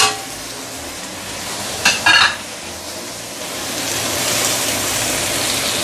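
River prawns in their shells drop into hot oil in a wok with a sharp double splash and burst of sizzling, followed by a steady loud frying hiss.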